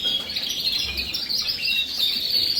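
Gloster canaries in breeding cages, a dense continuous high chirping and twittering from several birds, fairly near and steady throughout.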